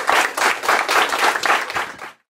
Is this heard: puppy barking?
no